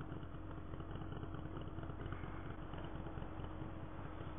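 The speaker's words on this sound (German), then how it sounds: "Ich glaube, dein Motorrad ist kaputt. Das macht so komische Geräusche." A faulty motorcycle engine idles faintly with an uneven, rattling chug, steady throughout with no one talking.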